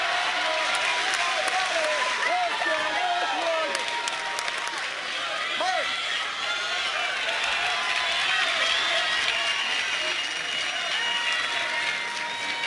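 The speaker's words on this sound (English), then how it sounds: "Let's go Redland chants, now trying to drown out that invigorated South Carolina crowd." Baseball crowd at a Little League World Series game, Red Land against South Carolina, chanting and cheering in a loud, continuous roar with rhythmic clapping early on, over which a commentator talks.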